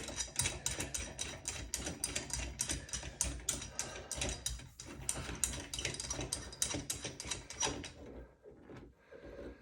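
A wrench tightens the nut on a Pfister widespread bathroom faucet during sink installation, giving a dense, continuous run of rapid ratcheting clicks that stays close and steady before tapering off near the end.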